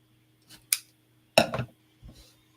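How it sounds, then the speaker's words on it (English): Scissors snip the edge off a piece of card stock during card making: a short opening click, then a crisp snip and a faint follow-up, all close and alone against a quiet room. "you probably have a little edge like this that you're going to snip off"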